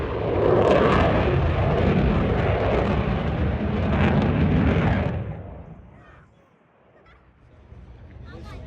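Military jets, including a B-1 and a MiG-29, fly past at an airshow: a loud, rumbling jet roar fills the first few seconds and then fades into the distance.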